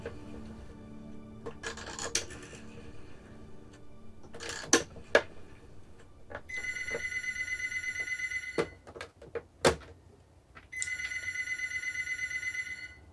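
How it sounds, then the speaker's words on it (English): A rotary telephone is dialed with a few short clicking bursts and rattles, then rings in two long, loud electric bell trills, heard alone with no talk. "Yes, dial those numbers."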